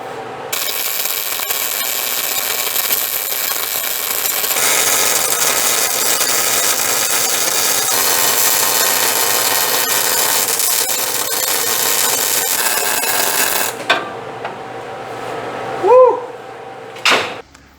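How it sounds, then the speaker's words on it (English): Someone welds a car's rear suspension, making a continuous loud crackling buzz for about fourteen seconds before it cuts off, followed by a few faint, scattered workshop noises. "Let me weld this side up."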